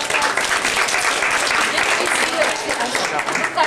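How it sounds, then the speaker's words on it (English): An audience at a company anniversary gathering gives a round of applause, a dense, even burst of many hands clapping that stays loud and steady from start to finish. "everybody give Lori a round of applause"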